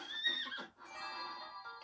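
Horse in Miitopia gives a bright, shrill whinny that breaks briefly then continues as a long wavering neigh, heard alone at moderate level.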